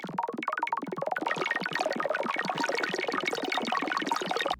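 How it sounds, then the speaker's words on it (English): A shark-like synth texture from a simple sine wave arpeggio with gentle phaser movement and Crystallize processing: a dense, steady shimmer of rapid bright tones that carries on loudly and evenly, with no talking. "Which is made with a sine wave arpeggio, really simple, a little bit of phaser movement,"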